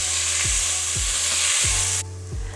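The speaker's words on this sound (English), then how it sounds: "We're gonna saute that down, sweat that down real good" Onions sauteing for turkey chili sizzle steadily in a hot pan, with a spoon scraping and stirring the pan four times before the hiss abruptly drops to a quieter simmer.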